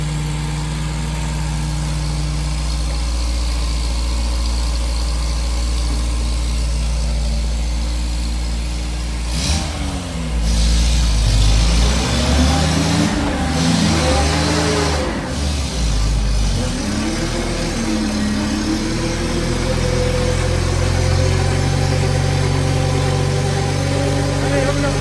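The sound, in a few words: 1980 MG engine revving on a dyno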